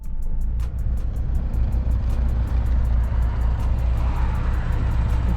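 An Acura RSX rolls along a road from inside the cabin, a low steady engine and road drone with faint rhythmic ticking running through it.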